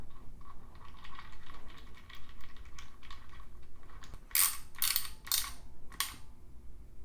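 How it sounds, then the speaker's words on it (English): A ratchet snugs the drain plug into a Holley 302-3 oil pan on a Chevelle LS turbo build, a quiet mechanical clicking that ends in a few sharp metallic clinks, with no one speaking. "And then last but not least is install your drain plug."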